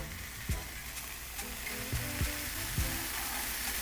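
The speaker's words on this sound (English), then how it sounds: "Get the skillet nice and hot with your wraps." Chicken and cheese wraps toast in a hot skillet, giving a steady soft sizzle with a few light scraping and clattering touches, close and alone.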